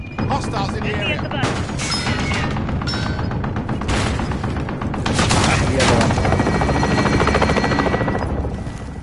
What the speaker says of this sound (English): Friendly chopper gunner on overwatch.